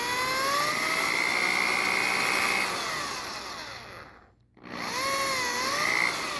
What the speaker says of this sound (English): drill a hole into the knob that you're going to place the stud in